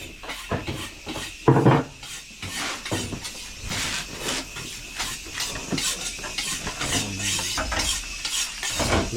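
Adobo cooking in a pan, with stirring, scraping utensils and light sizzling, plus occasional clinks of dishes and pans, close and busy with no talk.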